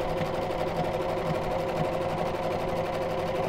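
A sewing machine stitching a towelling turban, running steadily at close range with a fast even mechanical whirr and rapid needle rhythm throughout, no talking.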